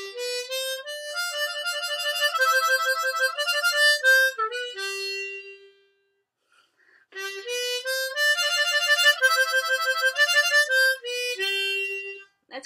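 Blues lick on a C harmonica with warbling between notes, played solo and close, two bright phrases separated by a short pause.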